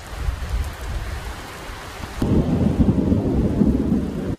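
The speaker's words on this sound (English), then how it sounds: "The storm front hit the region in a sudden fury." Thunderstorm with heavy rain in Port Lincoln, South Australia: a low rumble of thunder gives way to a loud, steady roar of downpour, close and constant, with no voices.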